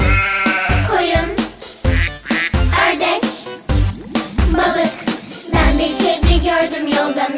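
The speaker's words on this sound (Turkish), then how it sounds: "koyun" Sheep bleating in a children's nursery song, the wavering bleats repeated rhythmically and loudly over bright music throughout.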